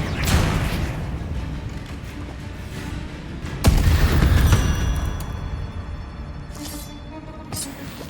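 Repeated Confringo blasting-curse explosions in Hogwarts Legacy: a dense stretch of heavy booms and crackling blasts, with a sharp, louder burst midway, then fading rumble and scattered pops, all without talk.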